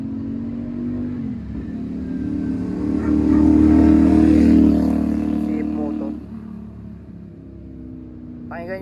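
Motorcycle engines pass along a mountain highway on Marilaque, a rising, droning rev that swells to a loud peak midway then fades as the bikes pass, with a person talking nearby.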